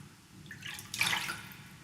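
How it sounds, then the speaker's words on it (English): A soft, slightly drawn-out splash of falling water swells and fades in the middle of an otherwise hushed stretch, gentle and close, without any talking. "Listen to the rhythm of each drop as it falls."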